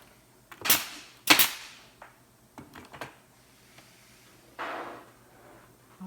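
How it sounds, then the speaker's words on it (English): A staple gun fires staples into the back of a walnut countertop board: two sharp, loud snapping shots close together, followed by softer handling knocks and a brief scraping sound, with no speech. "where I shoot the staples, it doesn't show"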